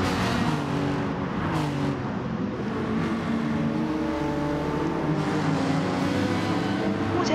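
Porsche and Ferrari GR.4 race cars in Gran Turismo Sport at the Kyoto Yamagiwa circuit drone continuously, engines revving and shifting pitch as they run close together, a steady loud motor roar throughout.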